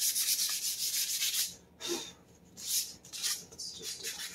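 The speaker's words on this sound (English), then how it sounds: "first step sanding" Close, rhythmic rasping strokes of sandpaper rubbing a hard plastic surface, several back-and-forth passes with short pauses between them.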